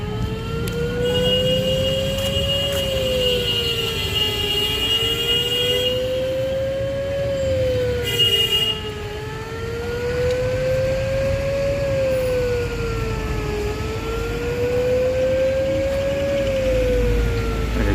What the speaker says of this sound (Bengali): এখন একটা ট্রেন আসবে, তাই সাইরেন বাজছে এবং এই গেটটা বন্ধ হয়ে, দেখো গেটটা পড়ে যাচ্ছে।